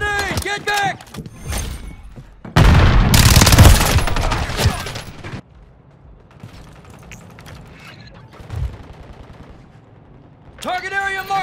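Gunfire in the video game Modern Warfare II erupts in a loud, dense burst of rapid shots and mechanical clatter, framed by shouted voices before and after, then fades to quieter rattling and distant pops.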